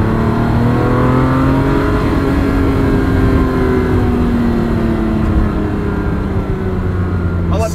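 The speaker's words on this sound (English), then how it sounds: "Oh, sounds awesome." Engine of a 1984 Ferrari 512 BBi revs loudly and continuously, its pitch rising and falling in sweeping climbs while people talk over the roar.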